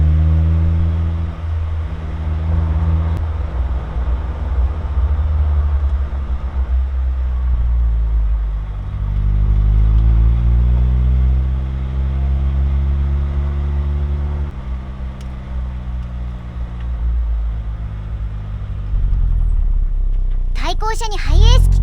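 A white Mazda Roadster ND drives a winding mountain road, its engine rumbling and rising and falling in pitch through gear changes, with talking heard over it and a brief sharp noise at the end.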